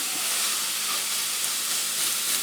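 Ground beef cooking in a pan for taco meat, a steady broadband hiss and sizzle holding even and fairly loud throughout, with no voices.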